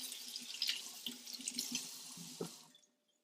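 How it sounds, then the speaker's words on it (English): Water from a kitchen tap runs over an avocado being rinsed, a soft close splashing stream that fades out after about two and a half seconds, with no one talking. "we'll give this a quick rinse"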